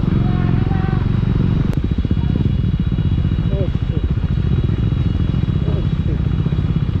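A motorcycle with an open, uncapped exhaust barks loudly and close, its rapid firing pulses rumbling steadily while someone talks over it.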